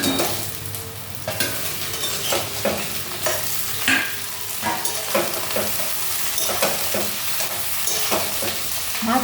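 Eggplant pieces fry in hot oil left over from frying fish, a steady loud sizzle with repeated scraping stirs and spoon knocks throughout, no voices.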